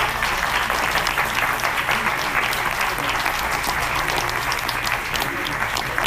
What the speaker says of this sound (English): Another warm round of applause, please.